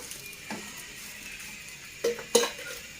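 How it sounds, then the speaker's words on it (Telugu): A wheat dosa is flipped on an oiled pan. A faint constant sizzle runs underneath, broken by one soft scrape and then two sharper metallic clinks close together near the end. "ఇలా కాలిన తర్వాత మళ్ళీ రెండో వైపుగా టర్న్ చేసుకుందాం"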